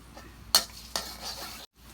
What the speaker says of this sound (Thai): ผัดกระเทียมให้หอมใช่ไหมครับยาย ให้เหลืองเนาะ